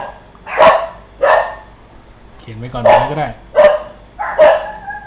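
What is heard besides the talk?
dog barking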